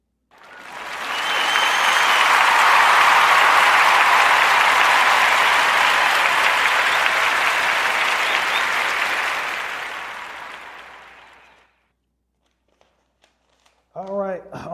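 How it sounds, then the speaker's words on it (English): Round of applause on a podcast, a sound-effect style burst of dense clapping that swells in, holds steady for about ten seconds, fades out, then a voice begins speaking. "Join me into giving that brother Ham, I'm just calling him Ham, a warm narrative podcast round of applause"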